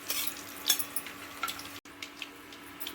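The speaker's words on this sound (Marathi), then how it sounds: "आपले फोडणीचा चांगला वास येईपर्यंत आपण हे कढीपत्ता आणि मोहरी चांगली भाजून द्यायची" Curry leaves and mustard seeds roast in hot tempering oil for a Marathi-style egg curry, a soft steady sizzle with light crackles and occasional spoon stirring against the pan, heard alone.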